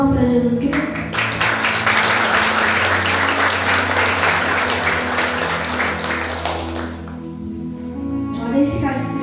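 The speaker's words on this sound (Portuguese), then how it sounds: "Vamos receber eles aqui com palmas para Jesus Cristo." A church congregation applauds newly baptized members during a service, with loud, sustained clapping that fills the room, then fades as a voice speaks near the end.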